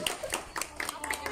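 An audience claps in a quick run of sharp, fairly close hand claps lasting just over a second, with voices in the background.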